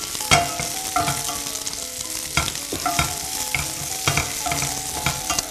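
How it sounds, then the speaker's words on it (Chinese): Carrots stir-frying in hot oil in a wok with scallions, a steady close sizzle broken by repeated clanks and scrapes of the spatula turning the food, no voices. "先炒一炒"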